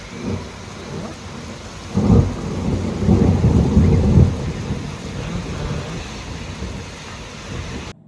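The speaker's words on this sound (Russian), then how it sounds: "Сейчас гром будет." Thunder rumbles low and heavy through a summer thunderstorm in Ukhta, Komi Republic, swelling for a couple of seconds over a steady hiss of falling rain.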